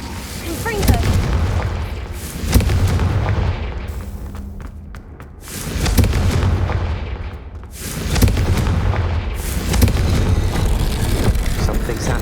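Confringo blasting spell explosions in the video game Hogwarts Legacy: loud, booming blasts arrive in several swelling waves, each rumbling on for a few seconds before easing off.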